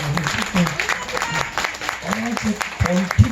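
Crowd clapping at an outdoor strawberry festival performance in Korea, scattered applause mixed with a performer's voice and some shouts over the clapping.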